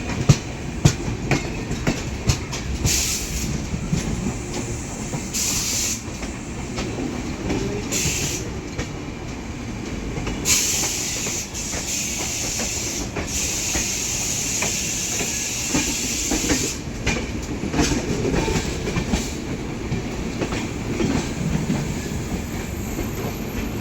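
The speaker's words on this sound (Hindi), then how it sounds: "पहली क्रॉसिंग अपनी अमृत भारत की हुई है फरक्का एक्सप्रेस के साथ," Farakka Express passing an Amrit Bharat Express leaving Kanpur Central, a sustained close rumble of wheels with clickety-clack and bursts of air hiss running steadily throughout.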